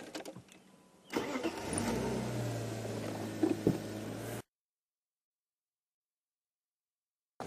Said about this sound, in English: I'm just going to move the vehicle back a little bit.